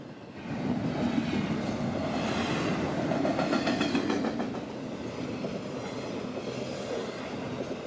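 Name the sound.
FEC freight train 202 passing northbound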